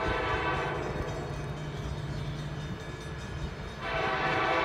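A Norfolk Southern southbound intermodal freight train heading toward Atlanta passes at Cornelia, Georgia, with a loud, continuous rumble of rolling cars and a sustained horn tone close by.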